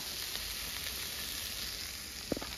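Banana blossom frying in a pan with fried potatoes added, a steady soft sizzle throughout, then a few quick clinks of stirring near the end.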